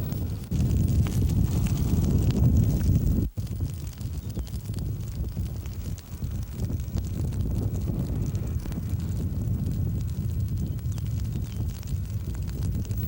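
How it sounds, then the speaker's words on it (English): Wind-driven prairie head fire, a broad steady roar and rush with crackle, loud and continuous, with heavy wind buffeting over the sound. "the head fire is set, and the wind pushes it across to meet the back burn"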